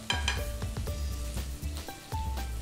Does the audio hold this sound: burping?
no